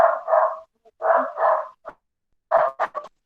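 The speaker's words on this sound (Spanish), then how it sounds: "vamos a esperar a ver si el perrito se calla" A small dog barks in quick bursts, several clustered yaps near the start, a pause, then another run of sharp barks, fairly close and loud in an otherwise quiet room.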